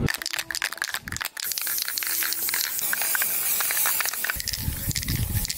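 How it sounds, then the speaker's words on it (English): A spray paint can sprays black paint onto a laptop, a steady hissing spray running almost continuously, loud and close, with brief crinkly bursts near the start and a rougher, lower rush toward the end. "spray painted"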